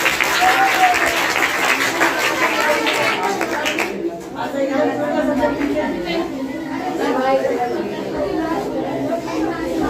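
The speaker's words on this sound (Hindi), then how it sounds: "आंचल कुमारी के लिए जोरदार तालियां बजाइए।" An audience claps for Aanchal Kumari at a motivational talk, a loud burst of applause in the first few seconds that gives way to crowd chatter and talking voices.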